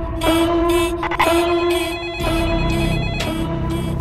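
A telephone rings loud and close in the Netflix series All of Us Are Dead, with repeated electronic ring bursts in a steady on-off rhythm.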